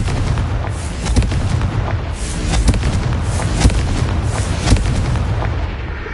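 Confringo blasting-spell explosions in Hogwarts Legacy on PS4: a string of loud, booming blasts about a second apart over continuous rumbling game noise.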